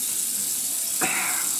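Hot water runs steadily from a tap into a sink before shaving, a constant hiss with a brief splash as the flow changes, fairly close and alone without talk.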